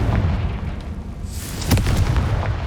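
A Confringo spell in Hogwarts Legacy bursts into a deep, booming explosion with a crackling, rumbling blast midway through, set against low game ambience.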